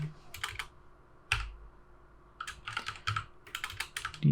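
Code typed on a computer keyboard, quick clusters of crisp key clicks with brief pauses between, close and fairly quiet.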